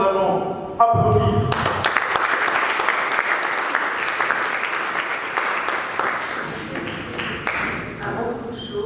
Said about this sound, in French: Bien avant cela, nous allons applaudir.